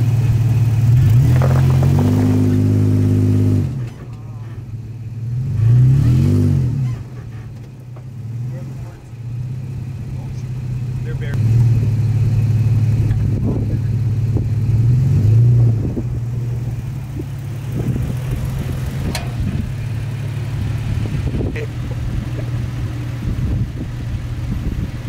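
A truck in two-wheel drive on traction boards in loose sand, its engine revving hard in repeated low, droning surges that rise and fall, loud and close, with some rumbling and whirring between the bursts.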